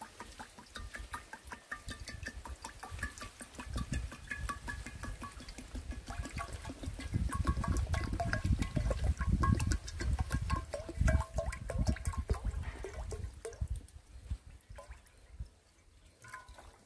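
Water being poured into a cooking pot for boiling yellow and white yam over an outdoor fire, a steady close splashing and trickling that swells louder midway, then tapers off.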